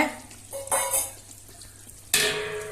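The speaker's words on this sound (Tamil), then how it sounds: "நம்ம இது கூடயே இப்ப 1/4 லிட்டர் நல்லெண்ணெய் சேர்த்திக்கலாங்க." Sesame oil poured in with herbs in a hot pan, giving a stirring, frying sizzle that flares loudly twice, the second burst bright and sustained to the end, with no talk.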